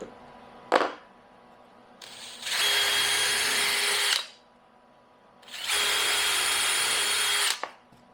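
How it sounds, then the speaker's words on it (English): A power drill whirs in two steady bursts of a few seconds each while drilling small pilot holes in bathroom vanity false fronts, separated by quiet, with a sharp click before the first run. "So I'm going to drill my little holes here."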